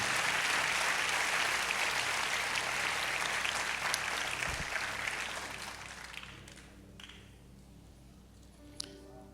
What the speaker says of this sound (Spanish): Mientras le damos un aplauso al Señor por este día